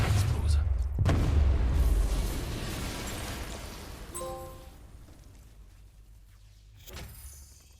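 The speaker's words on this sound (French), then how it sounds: "Je dois m'éloigner davantage avant de déclencher l'explosion." A deep boom from an explosion in the video game Batman Arkham Knight rumbles loudly at the start, then decays into a long, fading roar with debris-like noise and a brief metallic tone midway.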